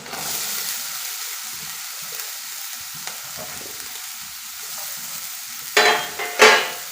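Carrot tipped into onions frying in a pan for a carrot egg thoran, giving a steady low sizzle with two loud scraping bursts of stirring near the end, no voices.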